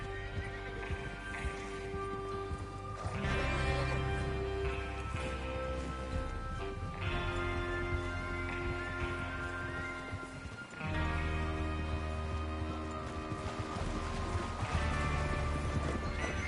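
Horses whinny and hooves clip-clop amid a continuous swell of orchestral music in the video game Red Dead Redemption 2, with a brief dropout near the middle before the music resumes.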